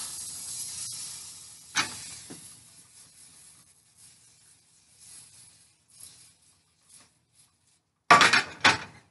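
Faint hissing and a few clinks run through quiet background, ending with a couple of loud, close bursts of cooking spray from an aerosol can onto a pan.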